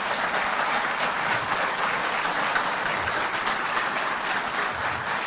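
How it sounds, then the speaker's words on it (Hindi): Steady, dense audience applause at a Delhi public event with the Chief Minister, continuous and fairly loud throughout with no talking over it. "तालियां बजती रहें।"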